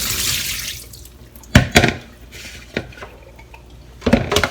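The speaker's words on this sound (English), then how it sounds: "Then drain the water of the burdock using a strainer." Water from soaked burdock is drained through a strainer in a kitchen, giving a hiss of running water at first, then several sharp clinks and knocks of utensils and dishes.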